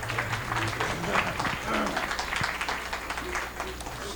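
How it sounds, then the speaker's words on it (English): An audience at a comic convention applauds the actor Mike Colter, a dense, continuous patter of clapping that fills the room while faint talk and crowd murmur carry underneath. "Let's give him a big round of applause here."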